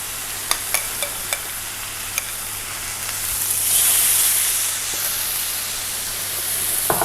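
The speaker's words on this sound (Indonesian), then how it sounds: "Nah, jadi ayam yang tadi kita udah marinate ini langsung aja kita grill ya." Marinated chicken on a hot grill pan without extra oil, a continuous close sizzle and hiss that swells louder midway, with a few sharp ticks and pops early on and no talking.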